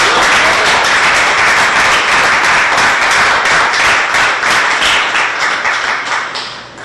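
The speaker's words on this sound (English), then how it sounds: "we ought to give our new speaker a big round of applause" Loud applause in the room at a governor's press conference, many hands clapping in a dense, close rhythm that holds steady and then begins to taper off near the end, with no speech.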